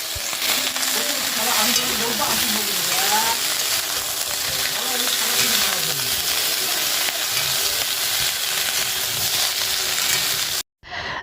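Broccoli frying in a pan with a spice paste of cumin paste, onion paste and green chillies, giving a loud, continuous sizzle with stirring scrapes and a faint voice underneath, cutting off briefly near the end.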